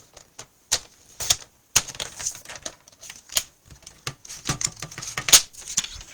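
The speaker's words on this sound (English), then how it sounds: "It's a little bit too wide, so let me trim that down." Paper trimmer slicing a scrap of card stock for a handmade card, heard as a series of sharp dry clicks and short scraping cuts in irregular rhythm, close and fairly quiet.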